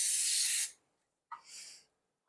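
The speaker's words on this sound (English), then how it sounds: "So I got the cooking spray right here. Let's go ahead and spray the oil in it." Cooking spray oil hisses into a bread pan in two short bursts, a longer one first and then a shorter one after a brief pause, close and alone.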